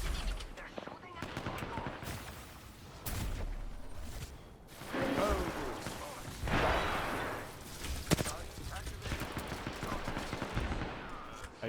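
Gunfire in a competitive shooter video game, scattered bursts of rapid shots and sharp cracks with whooshing effects and a voice speaking over parts of the action, moderately loud with uneven rhythm.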